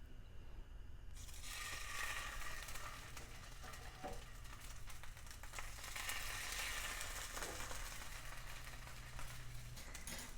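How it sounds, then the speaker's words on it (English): Salmon fillets laid skin-down into hot oil in a skillet give a continuous loud crackling sizzle that swells as the fish goes in and keeps spitting steadily, with no voices. "So let's just lay our salmon in"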